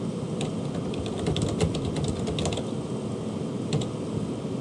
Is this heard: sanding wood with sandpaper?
no